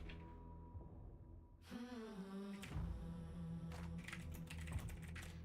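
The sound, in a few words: typing on a computer keyboard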